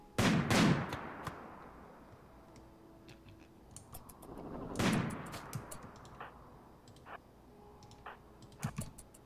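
Gunfire in RimWorld, scattered sharp cracks and short bursts at irregular intervals, a couple of louder heavier shots among them, with quieter clicky pops in between.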